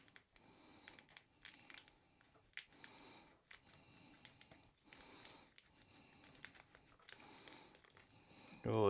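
Blunt scissors snip through the edge of a single ice pack cell cut from a sheet, giving a series of faint crinkly cuts and crunches in an irregular rhythm, close and quiet, with a louder knock at the end.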